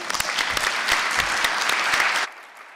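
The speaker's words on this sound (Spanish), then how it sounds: "Por favor, un aplauso para el doctor Armando Mata." Warm applause from an academic conference audience greeting a presenter, a dense burst of clapping that cuts off abruptly near the end into quiet room tone.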